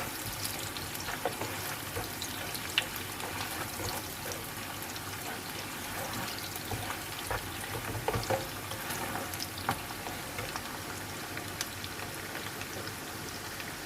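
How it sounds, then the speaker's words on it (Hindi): Onions browning lightly in a pan give a steady, soft frying sizzle with faint stirring ticks, continuous and fairly quiet throughout, no talking. "दूसरी तरफ प्याज को हल्का ब्राउन करेंगे।"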